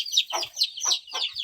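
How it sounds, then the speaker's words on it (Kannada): A brooding hen sitting on her eggs on a free-range farm gives a short run of soft, close clucks, four or five quick pulses with no voices over them. "ನೋಡಿ, ಒಂದು ಕೋಳಿ ಕೂತಿದೆ ಮೊಟ್ಟೆಗಳ ಮೇಲೆ."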